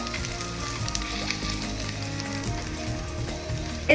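Paneer pieces frying in a pan for a paneer roast give a steady, close sizzle with faint crackles throughout and a brief clatter near the end.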